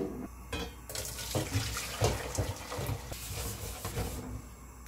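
Tap water runs and splashes steadily into a sink while a new stainless steel pan is washed, with clattering and scrubbing mixed into the close, continuous flow.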